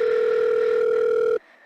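A steady two-pitch telephone line tone while waiting for someone to answer, loud and close, holding for over a second before cutting off abruptly into near silence.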